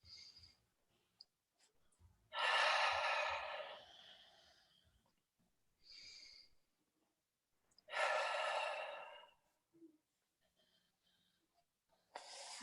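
Deep breathing during a guided heart-centred meditation, two long slow inhales and exhales close to the microphone with quiet pauses between them and a few soft mouth clicks, no talking.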